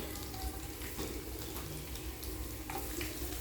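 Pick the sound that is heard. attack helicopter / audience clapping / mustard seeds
mustard seeds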